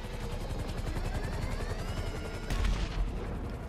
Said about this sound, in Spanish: Por eso le disparamos al helicóptero.